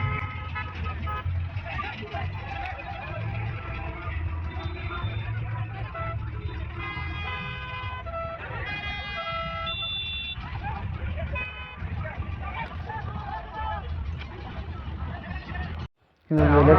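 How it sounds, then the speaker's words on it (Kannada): Train horns fitted on auto rickshaws blare in sustained, wavering tones during a Shivaji Jayanti rally in Kalaburgi, with traffic rumble and crowd babble throughout and a brief cut near the end. "ಎಲ್ಲ ಹಾರನ್ ಅಷ್ಟು ಲಾರಿ ಹಾರನ್ ಕುಂದಿರ್ಸಿಟ್ಟಿದ್ದಾರೆ, ಆದರೆ ಟ್ರೈನ್ ಹಾರನ್ನು ಕುಂದಿರ್ಸಿದ್ದಾರೆ ಅದ್ರಾಗ"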